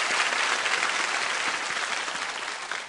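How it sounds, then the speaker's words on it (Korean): Sustained applause from a church congregation gathered in a gymnasium for a dawn prayer service, a dense, steady wash of many hands clapping at close range for nearly three seconds with no talk over it. "한 번 더 박수로 좀 격려하고 축복해 주시면"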